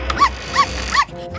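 A dog barks three times in quick, even succession, close and fairly loud, with a whiny, whimpering edge to each bark and a short pause at the end.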